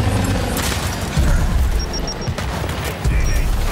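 Rapid gunfire and heavy booms from the video game Gears 5 in continuous bursts, loud and dense, with a few faint high beeps from the game.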